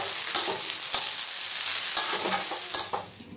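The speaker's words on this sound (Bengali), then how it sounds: "ভালো করে নেড়ে চেড়ে" Soybean chunks and vegetables fry in a pan with a close, steady sizzle, while a spatula scrapes and stirs in irregular taps and strokes.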